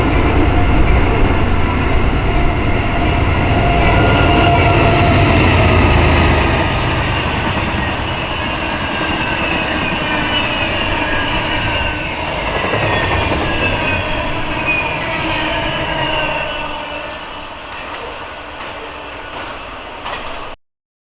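A BNSF westbound freight train led by C6M and GEVO locomotives passes close by with a loud, sustained roar of engines and rolling wagons and some wheel squeal, then fades and cuts off near the end.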